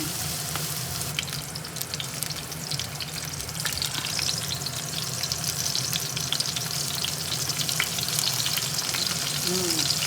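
Onions and tomatoes roasting in a pan for a roasted chutney, giving a steady, fairly close sizzle and crackle that continues evenly throughout with occasional stirring.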